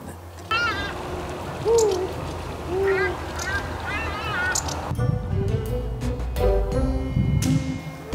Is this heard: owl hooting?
yes